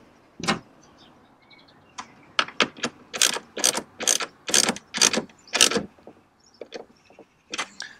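Ratchet tightening bolts on a VW T5 camper conversion, with quick bursts of sharp metallic clicks in an uneven run of strokes and short pauses between them, close and clear.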